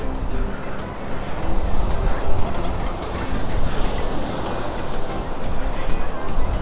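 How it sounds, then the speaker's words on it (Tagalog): Big waves surge and break continuously at Patar Beach in Bolinao, Pangasinan, a steady loud roar of surf with gusty wind noise across the microphone and no pauses. "malaki yung alon ngayon"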